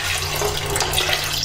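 Water pours steadily from a kettle into a cup, a continuous close splashing stream with no pauses and no talk.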